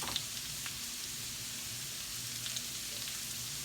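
Potatoes frying in butter in a skillet, a steady, faint hiss and sizzle running unbroken throughout with a few tiny pops.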